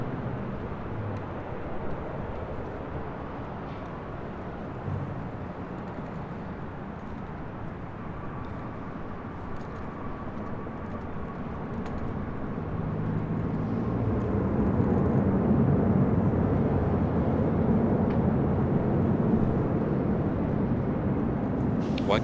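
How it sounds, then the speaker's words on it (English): A Delta Airlines Airbus A321 arriving from Detroit on final approach at LAX gives off a steady broadband jet roar. The roar builds and grows louder toward the end, and airport radio chatter runs faintly underneath it. "This is Delta Airlines 913 coming in from Detroit on an A321."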